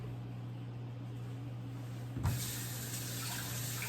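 Broccoli in a kitchen strainer being rinsed under a running tap, a steady wash of water that turns louder and brighter partway through as the flow hits the florets, with a low hum beneath.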